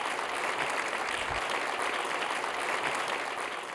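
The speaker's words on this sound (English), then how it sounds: "Give her a round of applause, everybody." Ballroom crowd at an awards induction gala gives steady, full applause, a continuous dense patter of many hands at moderate distance with no voices over it.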